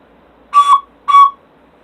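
Two short, breathy high whistled tones from an ocarina, each lasting about a quarter second, separated by a brief pause in a quiet room.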